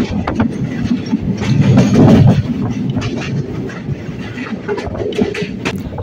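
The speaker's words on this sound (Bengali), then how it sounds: "6:50 আমাদের এই ট্রেনটা ছেড়ে দিল।" A crowded general-class passenger train from Sealdah towards Rampurhat rumbles along, heard from inside the carriage with steady wheel clatter and rhythmic clicks on the rails, loud and continuous, with faint voices in the background.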